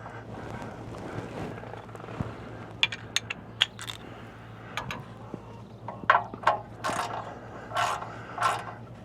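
Ratchet snugging the oil drain plug back into a Cummins L9 engine on a Freightliner M2 106 Super C motorhome, heard as short clicking bursts and metallic scrapes in brief clusters, moderately close with no talking.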